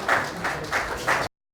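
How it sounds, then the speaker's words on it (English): Applause from a meeting audience for the chairman and secretary at a public and private focus group session, a short burst of clapping in steady waves before cutting off abruptly. "A round of applause for Mr."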